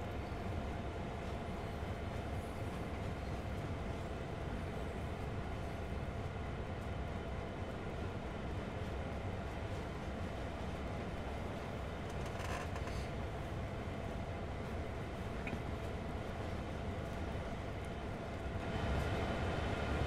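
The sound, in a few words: train coasting with power cut in video game Train Sim World 2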